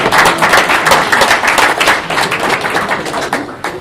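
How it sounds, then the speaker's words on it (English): An audience at an evening Office 365 developer meetup in Seattle gives a brief, dense round of clapping that fades slightly toward the end. "thank you to all of our speakers tonight. Quick round of applause."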